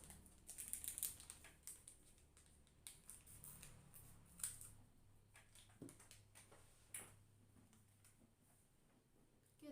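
Scissors snip through a small packet meant to hold pepper, a series of crisp, close cuts and clicks scattered unevenly over several seconds against a quiet room, with no talk.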